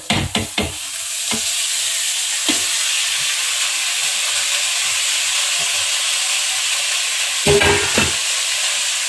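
Spinach tipped into a pan of frying onions and green chillies, a loud continuous sizzle opening with a burst of clattering spoon strikes and rustling, more stirring knocks returning near the end.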